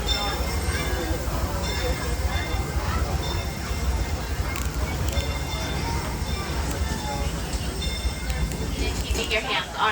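The Disneyland Railroad train in Anaheim, California rolls along with a continuous rumbling clatter and occasional wheel squeal while a voice speaks over it.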